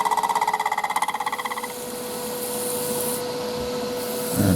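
A mahogany disc being trued on a lathe gives a rapid rhythmic scraping at first, then settles into a steady rubbing hiss over the hum of the machine.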